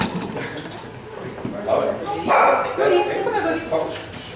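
Rudy the dog barks and yips a few times amid a busy outdoor Burns Night gathering, with people talking nearby over the barking.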